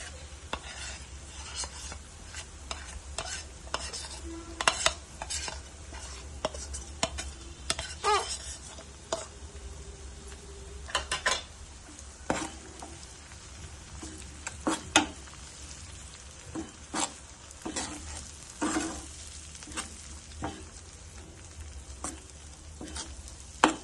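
Onion and spice mix frying in a pan for a mustard hilsa curry, with a steady sizzle under repeated scraping and stirring strokes from a spatula, close and fairly loud throughout.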